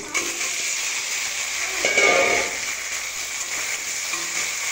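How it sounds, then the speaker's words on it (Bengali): Onions frying in oil with green chili and taro pieces, a steady broadband sizzle throughout, close and fairly loud, with a brief surge in crackle around the middle as ingredients go in. "পেঁয়াজটা লাল লাল করে ভেজে নিয়ে এইবার এর মধ্যে দিয়ে দেব কাঁচা লঙ্কা আর কচু"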